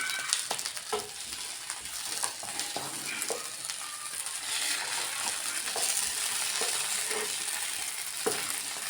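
Pizza pav sizzles on a frying pan in a continuous bright hiss, with scattered soft taps and clicks as the bread is pressed and flipped; close, moderate in level, no talking.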